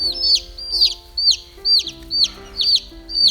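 Chickens cluck in regular bursts about every half second, loud and close, with steady background tones underneath and no talking.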